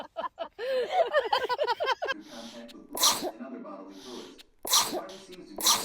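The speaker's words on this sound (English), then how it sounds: "Sneezing Spree, Cat Edition." A cat lets out a string of sneezes: several sharp bursts, the first ones quick and closely spaced, then two louder separate sneezes with pauses between, close and clear.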